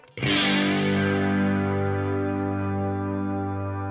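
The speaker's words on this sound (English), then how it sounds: "Take a super long, lush reverb." An electric guitar chord rings out through a very long, lush reverb, striking sharply and then sustaining as a dense, shimmering wash that fades only slightly over several seconds, alone with no talk.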